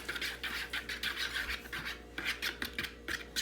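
A spoon scraping and stirring French toast batter in a bowl, a steady run of short rasping strokes repeated in quick rhythm, close and fairly quiet with no talking.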